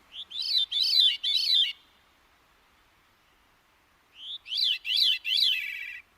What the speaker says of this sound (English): many songbirds can create harmony without another bird to back them up, all on their own